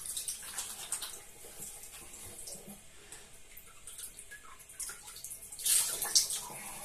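Water rinsing over a freshly shaved head, irregular splashing and trickling from a tap that comes in uneven bursts, growing louder near the end with a few sharp spatters.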